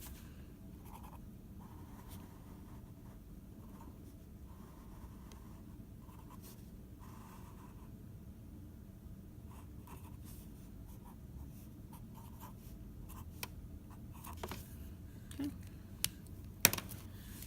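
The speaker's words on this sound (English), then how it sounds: "So let's make this drawing." A geometry diagram is drawn by hand with a pen or pencil, producing faint, close scratching strokes and taps in short bursts across the quiet stretch, with no talking.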